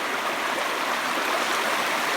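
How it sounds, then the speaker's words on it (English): Water pours steadily down a small waterfall into a channel that feeds a pond, a close, even rushing and splashing with no break and no voices. "this waterfall which comes all around it"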